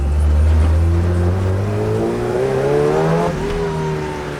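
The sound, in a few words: Lotus car engine revving with turbo boost in a video game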